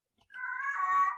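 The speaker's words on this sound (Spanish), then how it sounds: "disculpen el gato" A house cat lets out a single drawn-out meow, fairly close and clear, with no talking over it.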